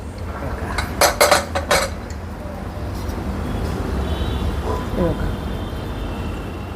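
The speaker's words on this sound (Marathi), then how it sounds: "आता आपला कुकर झालेला आहे. आता आपण खोलूया." A pressure cooker of jowar and moth bean pulao is opened with a quick cluster of loud metallic clanks from the lid, followed by a quieter background hum.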